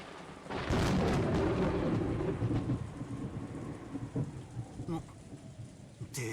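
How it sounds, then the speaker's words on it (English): Thunder and rain in the Umineko visual novel: a loud, close thunder roll swells over steady rainfall and then slowly fades into continuing rain, with a few sharper crackles near the end. "that last thunder was loud"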